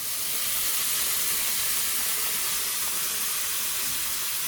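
White wine hitting a hot pan of browning onion and garlic throws up a loud, steady hiss of steam and sizzle that holds evenly throughout, close and with no voices.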